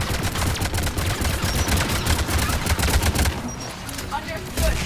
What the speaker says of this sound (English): Mounted turret.